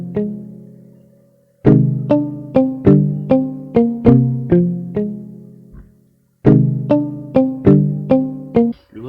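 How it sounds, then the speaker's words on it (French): A guitar one-shot sample playing a MIDI melody in FL Studio: two phrases of evenly spaced plucked notes, each ringing and decaying, separated by a short pause, clean and alone. "j'ai fait une mélodie à la guitare"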